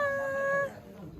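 A single clear cat meow, drawn out and fairly loud, then fading into quiet room noise.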